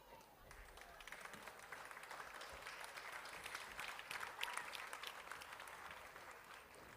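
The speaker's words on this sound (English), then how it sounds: "Can we all rise up and give a standing ovation for all those efforts?" Standing ovation applause at a school annual concert and prize giving, a dense crowd clapping steadily and fairly far off, sustained for several seconds and swelling slightly near the end.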